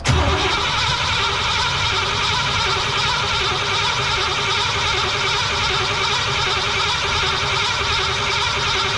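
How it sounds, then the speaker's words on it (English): A car engine cranks after a fuel pump replacement, a continuous loud whirring grind with a pulsing, bleat-like rasp that keeps going for several seconds without catching, close by. "And we'll crank it and see if we get any fuel."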